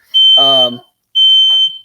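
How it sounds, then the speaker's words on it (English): A household smoke alarm set off by cooking, two loud, shrill, sustained beeps close by with a short gap between them, a voice briefly speaking over the first beep. "fire alarm just went off, but it's just my wife's cooking"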